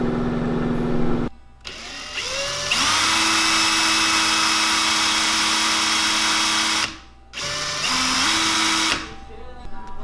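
A power drill bores quarter-inch eye sockets into a wooden jerkbait body, running in two long high-pitched bursts split by short pauses, with talk in the background.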